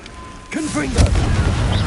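A Confringo fire spell blast in the Hogwarts Legacy video game: after a brief quiet lead-in, a boomy, rumbling impact swells up and lingers, with a character's voice over it.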